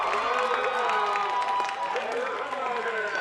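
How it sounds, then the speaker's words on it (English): Middle school fans in the stands at a Conyers Middle School football game cheering and clapping, a moderately distant crowd roar with mixed voices shouting over it. "Conyers Middle School fans cheering their team on."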